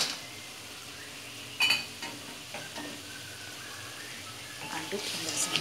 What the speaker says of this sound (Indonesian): Aduk hingga semua terlapisi oleh bumbu